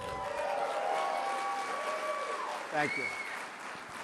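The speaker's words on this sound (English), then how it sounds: "Standing ovation." Standing ovation from a business audience at the Economic Club of Chicago for a speaker, sustained clapping under someone speaking briefly, moderately loud and continuous.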